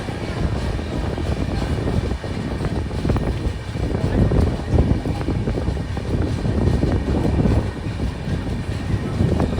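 The Andhra Pradesh Sampark Kranti superfast express, running from Tirupati to Kacheguda, pulls out of Tadipatri station with a steady, dense rumble and rattle that fills the whole stretch at close range.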